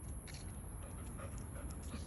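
A dog pants rapidly and steadily, close and fairly quiet, with faint whimpers mixed in and no talking.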